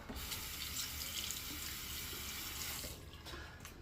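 Water runs steadily from a tap into a sink for rinsing after a shave, a close, continuous splashing that shifts and eases slightly near the end.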